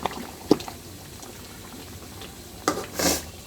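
Meat curry with green chilies and tomato simmers in a cooking pot, giving soft, intermittent bubbling pops with a few louder bursts, heard alone and fairly faint.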